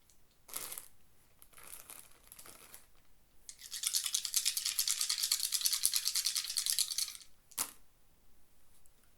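Dice rattle and clatter as four are shaken in a hand and rolled out, with a few short rattles first, then a long, close, continuous shake, and finally one sharp clack as they land.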